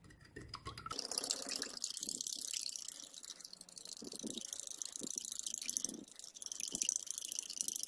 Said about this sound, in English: And we'll give him a stir.